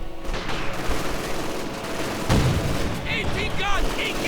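Light machine gun fire in the Company of Heroes 2 real-time strategy game, a sustained crackling burst with a heavier thud midway and some short whistling tones, heard beneath a commentator's voice.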